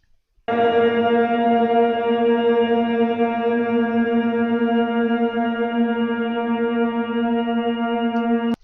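A piano sample time-stretched with Paulstretch makes a steady, smeared, reverberant drone that holds almost unchanged for several seconds, then cuts off.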